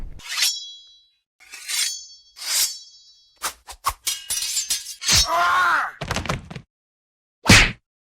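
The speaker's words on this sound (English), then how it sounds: "Or if they're using swords instead of guns," Cinematic sword clashing effects: repeated loud ringing metallic clangs and scrapes, some with long shimmering tails, close and isolated, arriving in uneven bursts with brief pauses.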